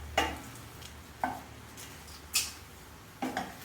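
Vegetables being pushed around a frying pan, with four sharp utensil scrapes and knocks against the pan spaced about a second apart over a low, faint sizzle, and no voices.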